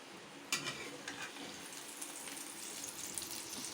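Egg omelette frying in a pan, a soft continuous sizzle and crackle with a few faint clicks, quiet and steady throughout.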